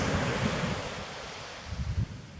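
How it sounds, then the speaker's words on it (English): Sea waves breaking at the shore where land meets sea, a steady loud wash of surf with wind buffeting the microphone and a couple of heavier surges near the end. "being by the sea, at a place where land and sea meet"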